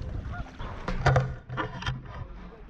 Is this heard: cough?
no